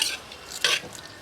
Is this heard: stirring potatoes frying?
yes